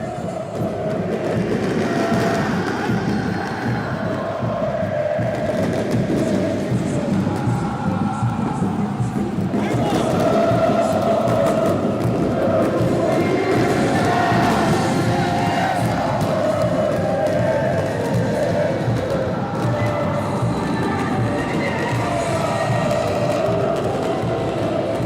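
Corinthians supporters packing a football stadium before kickoff, a dense, continuous roar of crowd chanting and cheering that swells and holds loud throughout, with a commentator speaking over it.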